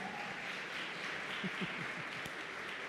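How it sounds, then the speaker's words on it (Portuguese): Steady applause from a crowd, dense clapping filling the room throughout with a few louder claps standing out near the end. "Uma salva de palmas aí, gente"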